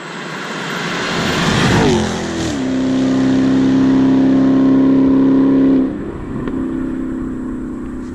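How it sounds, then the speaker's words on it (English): A loud V8 engine roars past up close, its exhaust note sweeping in pitch as it passes, then fading to a lower rumble. "from a mile back, all you heard was straight engine and exhaust."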